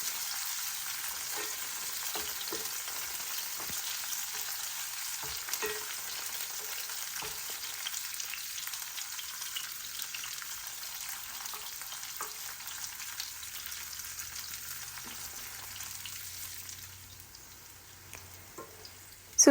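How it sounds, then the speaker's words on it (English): Sliced bitter gourd (karela) fries in a pan until crispy, a steady close hiss of sizzling oil with occasional stirring scrapes that quiets toward the end. "તો આ રીતે આપણે કારેલાને એકદમ ક્રિસ્પી થાય ત્યાં સુધી આપણે એને સાતડી લઈશું."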